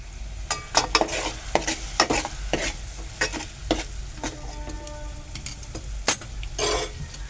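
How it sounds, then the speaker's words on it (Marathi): A spatula stirs a val bean dish, kadve val birda, in a pan with a faint frying sizzle underneath. The scrapes and clinks come in an uneven rhythm, close and fairly clear, with no talking. "परत मी ते ढवळून घेतो"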